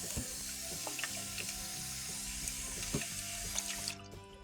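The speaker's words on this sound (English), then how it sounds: "Now you want to just put it in a plastic container or any container you have, and then just water it." Water trickles and splashes steadily into a plastic container of newly sown herb seeds, close and soft, with small clicks and taps from the container.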